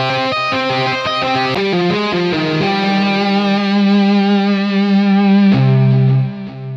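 Distorted electric guitar from the Shreddage 2 virtual instrument plays a run of notes, then holds one with vibrato that widens and intensifies before cutting off sharply into a final chord.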